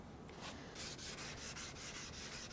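A chisel is rubbed back and forth on an 8000 grit sharpening stone, a close, gritty scraping repeated in a steady rhythm of strokes.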